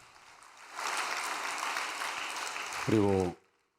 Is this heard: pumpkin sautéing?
no